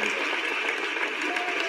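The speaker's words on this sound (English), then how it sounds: "Give that a round of applause" Crowd applause at a spoken-word event, a brief, even burst of many hands clapping with no pause.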